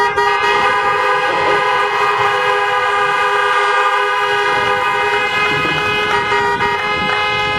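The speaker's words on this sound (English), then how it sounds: "let us hear you and honk those horns" Loud, sustained car horns blaring together at a casino groundbreaking ceremony, a continuous chorus of overlapping honks, with faint crowd noise underneath.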